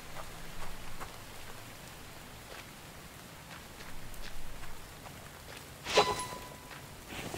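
Steady rain falling in the video game The Infected, a soft continuous patter with faint footstep-like taps and one brief louder knock near the end, no voices.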